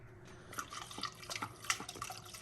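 Coolant being poured into the lines of a VMP triple pass heat exchanger on a car, giving soft irregular drips and trickles of liquid, close and fairly quiet, with no talk.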